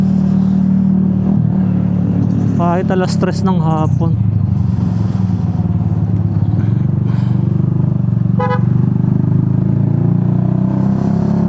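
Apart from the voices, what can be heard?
road traffic heard from motorcycle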